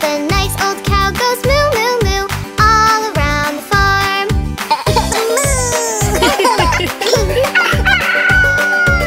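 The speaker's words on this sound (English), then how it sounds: "The old red rooster goes cock-a-doodle-doo" A cartoonish rooster crows repeatedly within a bouncy children's nursery-rhyme song, the cock-a-doodle-doo calls loud and bright over a steady beat and music.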